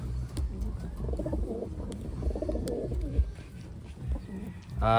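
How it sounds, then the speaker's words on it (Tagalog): Pigeons brought in from Taiwan coo repeatedly in soft, low, rolling calls that overlap in a close, busy flock, with faint talk in the background. "Ayan, yung mga ibon. Ito ay mga galing na sa isla."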